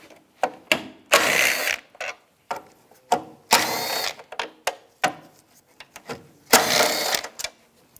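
Ratchet wrench with a 10mm socket working bolts loose on a 2008-2017 Buick Enclave during headlight removal: several bursts of rapid clicking ratcheting, close and fairly loud, separated by short pauses and small taps.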